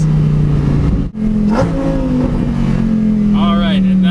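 A Lamborghini Murcielago SV V10 on a mountain canyon run: loud, close engine drone with a brief throttle lift and crackle, then rising revs, while a person talks over it.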